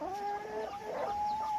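Egg-laying chickens cluck and call nearby in a farm setting, in a short burst of clear, drawn-out bird calls with no talking.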